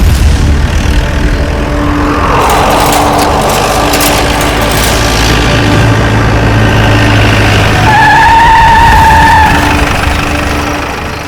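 A car brakes hard to a stop in a TV crime drama, a loud, continuous engine roar with a drawn-out tyre squeal rising near the end, no voices over it.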